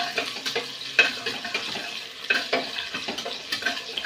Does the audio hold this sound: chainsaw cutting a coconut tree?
no